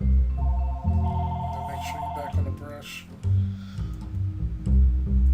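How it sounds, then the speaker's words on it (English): A phone rings in the background of a room, a faint repeating electronic tone heard under a voice as he speaks. "I'm sorry that my phone is ringing in the background there"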